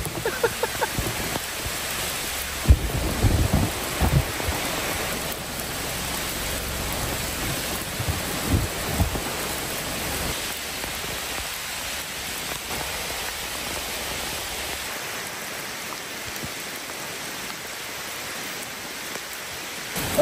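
Heavy rain pours steadily during a wild storm around a car at a camping spot, with thunder rumbling low in the first half before easing to constant downpour alone.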